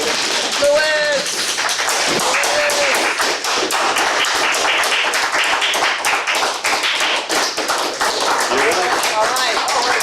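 A Toastmasters meeting audience claps rapidly together to imitate a drum roll, producing a dense, continuous patter of loud hand claps, with occasional voices and laughter woven through it.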